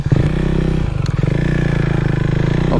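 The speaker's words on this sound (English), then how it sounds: "So let's switch on the bike" The engine of a small cc motorcycle runs steadily after being switched on, with a loud low pulsing idle that holds close and continuous. There is a brief clatter near the start.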